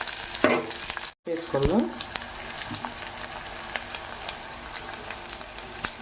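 Potatoes for a crispy potato fry sizzle steadily in a pan, with a brief clatter of stirring early on and a single short spoken word over the constant frying hiss.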